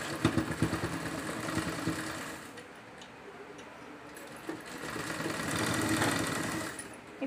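A sewing machine runs through cotton cloth while a handbag is stitched. It gives a rapid ticking, mechanical whir in several runs, with short pauses and a softer stretch before it speeds up again, and nobody talks over it.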